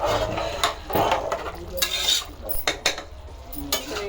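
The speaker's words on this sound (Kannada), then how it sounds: "ಇವಾಗ ಫಸ್ಟ್ ಇದೊಂದು ಸರ್ತಿ ಮಿಕ್ಸ್ ಮಾಡ್ತೀನಿ." Biryani ingredients with garam masala being stirred and mixed in a pot, with repeated scraping and clinking of a spoon against the metal at an irregular pace, close and fairly loud, with no talking.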